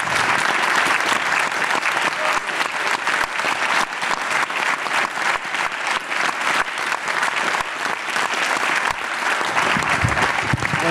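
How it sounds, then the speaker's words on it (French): Sustained audience applause at a round-table event, loud and dense with many hands clapping steadily for about eleven seconds and only slightly thinning near the end. "je vous propose d'applaudir tous ceux qui ont travaillé pendant ce temps-là"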